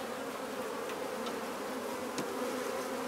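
Honey bees hum steadily around a 10 frame hive while a colony is moved from a nuc, a dense close buzzing with a few individual bees passing nearer.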